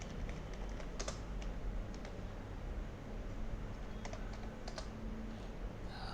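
Typing on a computer keyboard while entering text in Excel, a steady run of soft clicking keystrokes with occasional sharper key presses, close and fairly quiet, no talking.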